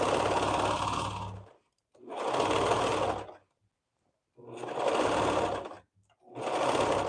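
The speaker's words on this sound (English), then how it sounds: "I'm going to stitch like I've never stitched before." A sewing machine stitching fabric runs in four loud, close bursts of rapid mechanical whirring and needle clatter, each about a second long, separated by brief silent pauses.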